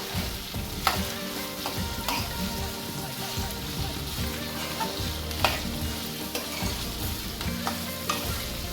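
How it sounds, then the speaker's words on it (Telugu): Onions frying with green chilies and curry leaves in a pan, a steady close sizzle with intermittent stirring scrapes and utensil taps throughout. "ఈ ఉల్లిపాయలు వేగేంత వరకు వేయించుకోవాలి"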